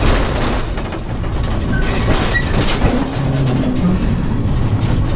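Rattling, bumpy train ride with a loud, continuous rumble, clanking and jolting close by, filling the whole stretch with dense mechanical noise and no clear talk.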